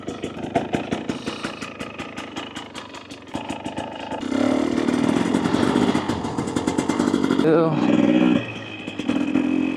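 A nearby 2024 Husqvarna TE250 TBI dirt bike with an FMF Turbine Core 2.1 exhaust idles with a choppy, popping exhaust while warming up, then revs up to a louder, rougher drone and settles again, with occasional talking.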